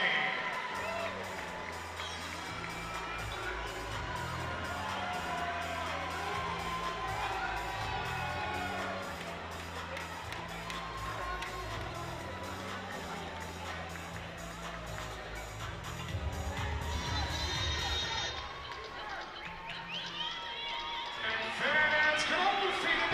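A large crowd at an American football game cheers and applauds for the cheer and dance team, continuously, with whoops and children's shouts rising and falling, and a loud swell near the end.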